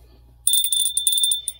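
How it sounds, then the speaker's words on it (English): A small hand bell is rung close by, a bright sustained metallic tone with rapid repeated strikes lasting about a second after a quiet start. "And Burton, ring that bell."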